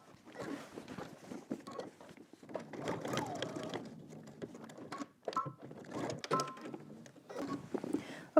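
A home sewing machine runs a diagonal line of stitches toward a garment corner, with quiet intermittent mechanical whirring and ticking in short bursts and pauses, fairly faint and close.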